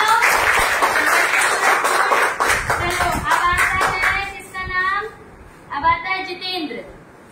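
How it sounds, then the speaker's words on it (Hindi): Children in a classroom clap together in a burst of rapid, close applause lasting several seconds; it fades out and voices follow. "चलो ताली बजाओ।"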